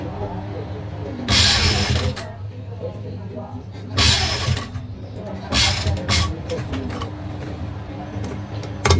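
A sewing machine stitches an angrakha neckline in short mechanical bursts that stop and restart, close and moderately loud, with a person talking throughout.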